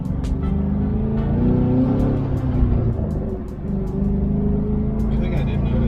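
An LS3 V8 swapped into a BMW E36 idling and revving nearby, a steady deep rumble rising and falling with throttle blips, with people talking over it.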